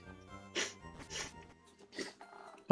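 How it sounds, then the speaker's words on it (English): A person sneezes while playing Pokemon FireRed, a breathy burst followed by a couple of snorting, sniffly exhalations, close and fairly soft, with no talking. "Oh, excuse me, my sneeze."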